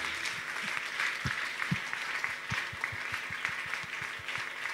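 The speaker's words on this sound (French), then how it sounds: "On acclame le Seigneur très fort." A church congregation claps loudly for the Lord during a worship service, a dense steady wash of many hands with a few sharper rhythmic claps standing out, continuous for several seconds with no talk.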